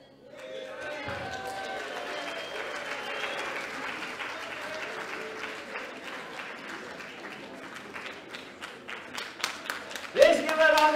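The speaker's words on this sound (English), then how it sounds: "Let's give a round of applause to Makete Lesejo." Audience applause at a mathematics education congress for Makete Lesejo; a crowd's clapping starts softly and swells, with individual claps growing sharper and more distinct toward the end, and voices mixed in.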